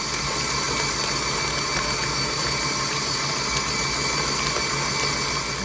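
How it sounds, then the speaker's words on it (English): An electric mixer whipping butter for strawberry buttercream frosting, a steady continuous motor whir with a high whine, constant and close throughout with no talking. "But I want to mix my butter first."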